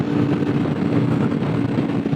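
A 2016 Aprilia RSV4 RF motorcycle running on its stock exhaust, a loud, steady engine roar that holds without a break and is heard alone.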